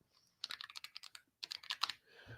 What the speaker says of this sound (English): You get a little keyboard ASMR while we're here.